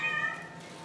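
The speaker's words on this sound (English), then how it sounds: "Excuse the cat meowing, I got a kitty in heat, I think." A cat in heat lets out a single short, faint meow indoors that quickly trails off into quiet room tone.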